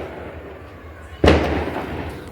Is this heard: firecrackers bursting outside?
yes